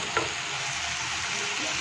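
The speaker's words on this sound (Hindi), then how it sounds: "प्याज को हम लोग अच्छे से फ्राई कर लेंगे।" Onions frying in hot oil make a thick, even sizzle that fills the moment, close and steady with one faint clink near the start and no voices.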